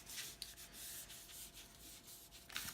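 Paper is rubbed down by hand to press it onto glue, a soft steady swishing friction, quiet and close, with a light tap at the start and end.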